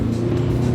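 A Toyota Camry Hybrid accelerating hard from a standstill in a 0-60 mph run, heard from inside as a steady, loud engine drone that holds without a break.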